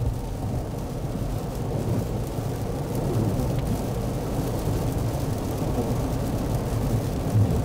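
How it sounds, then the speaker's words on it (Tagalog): Heavy rain heard from inside a car driving on a freeway in California, a loud, continuous low roar of downpour and road noise with no break throughout. "Malakas talaga ang ulan."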